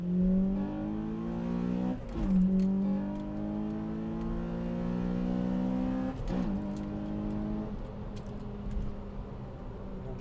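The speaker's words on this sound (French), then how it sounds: "Et vous allez entendre le VTEC." A Honda Civic Type R EP3 engine revs up through rising pitches into VTEC, dropping back briefly before climbing again, loud and close, with no voices.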